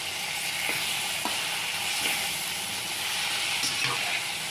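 Chili powder, salt, cumin and turmeric being stirred in a hot pan, a steady soft sizzle and hiss with occasional light scrapes of the spoon, close and continuous.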